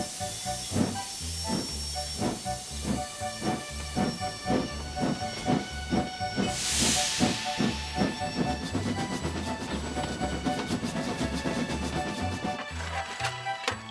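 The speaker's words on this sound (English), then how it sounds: "Lots and lots of water will make lots and lots of steam." A cartoon steam locomotive's engine gives off a steady hiss of steam over a rhythmic low chugging, with a brief louder burst partway through; the sound is close and continuous, with no talking.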